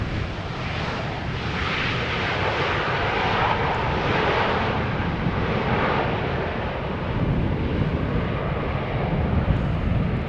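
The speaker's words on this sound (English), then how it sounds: "More 737s from KLM. This one arriving from Geneva." A KLM Boeing 737 jet arriving from Geneva at Schiphol roars loudly and steadily overhead, a broad engine rumble swelling and easing slightly over about ten seconds with no voices.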